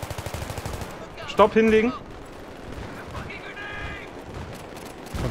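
Battlefield 3 gunfire crackles in repeated bursts throughout, with a steady rattle under a brief shouted voice and some game effects in between.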